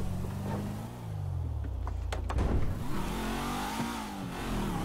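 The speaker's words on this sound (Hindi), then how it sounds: "अभी अभी मैं गाड़ी ना फुल तेज चला रहा हूँ" A 2019 Toyota Camry is driven hard in GTA 5, its engine revving and shifting pitch as it accelerates, dips and climbs again, steady and prominent with no talk.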